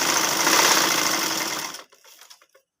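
A sewing machine stitches a ladies side pocket in a loud, steady mechanical whir that stops abruptly near the end, leaving a few faint clicks and rattles.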